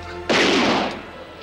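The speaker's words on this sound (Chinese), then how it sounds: "呢个警司真系开枪喎" A police officer fires a gun once in a Hong Kong crime film: a single loud, close blast that rings out and fades over about a second.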